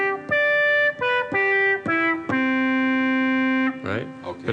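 A synthesizer made of only an oscillator and a filter, played on a standard MIDI keyboard, sounds a short series of bright buzzy notes, some clipped and one held, ending in a brief filter sweep.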